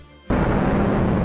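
Naval gunfire in the video game Kancolle, a sudden loud booming blast that bursts in after a quiet moment and rumbles on heavily.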